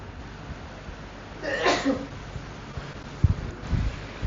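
A single sneeze from a listener during a spiritual reading session, brief and moderately close against a quiet room, followed by faint soft thumps and rustles.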